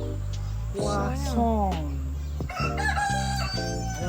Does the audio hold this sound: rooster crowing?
yes